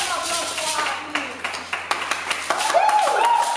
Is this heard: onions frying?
no